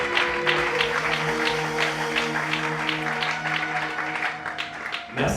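Congregation applauding at a church cell meeting, rhythmic group clapping in a steady beat over sustained music, moderately loud and ending abruptly.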